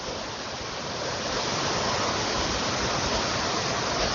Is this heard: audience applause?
no